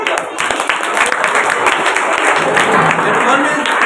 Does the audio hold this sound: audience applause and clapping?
yes